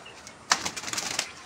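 A pet pigeon beats its wings in a short burst of rapid flapping, close and fairly soft, after a quiet start.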